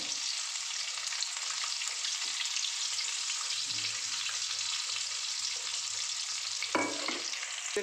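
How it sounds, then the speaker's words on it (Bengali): Gram-flour-coated eggs fry in hot oil with a steady, close sizzle and occasional stirring scrapes, no voices. "একটু বেসনে চুবিয়ে ভাজলাম"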